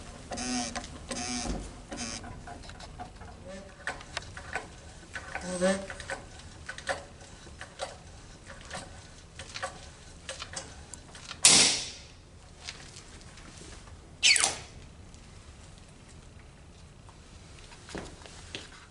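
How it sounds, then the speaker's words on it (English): A Snap-on AutoSPLITTER hydraulic nut splitter gives soft mechanical creaks and clicks as its pump handle is stroked to advance the chisel, with a couple of sharper, louder cracks near the end, all fairly quiet and close. "you'll advance the chisel by stroking the handle on the pump"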